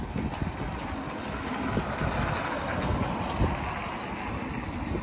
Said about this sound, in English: It's a little windy and breezy here